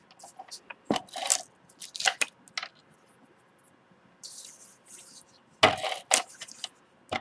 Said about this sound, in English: So I'm going to use my ATG gun to adhere all of my design paper.